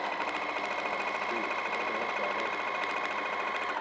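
A sewing machine quilts a vinyl project bag, its rapid needle chatter a continuous, even whir close by throughout.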